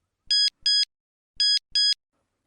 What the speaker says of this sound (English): Next morning, there was a text message from Olivia.